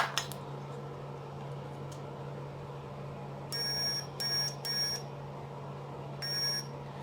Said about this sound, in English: When I join these two connectors together, it makes a noise.